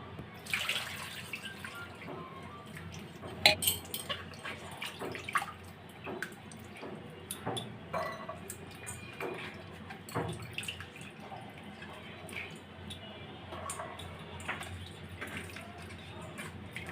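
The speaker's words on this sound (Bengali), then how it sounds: "এই আমগুলি প্রথমে ধুয়ে নিব।" Three raw green mangoes are washed under running water, with a steady stream and splashing and small knocks of fruit being rubbed and turned, close by, with some speech over it.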